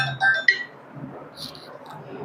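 A short electronic ringtone melody chirps at the start, then fades into quiet room noise with faint low rumble.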